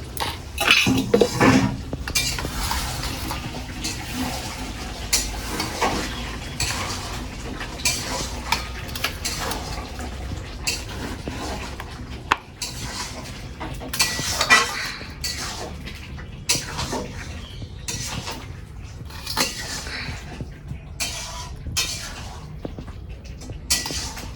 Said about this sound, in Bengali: এই হচ্ছে আলুর দম আর আমি কন্টেনারে এখন ভরবো